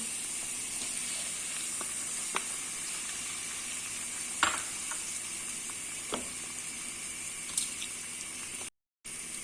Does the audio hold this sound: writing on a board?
no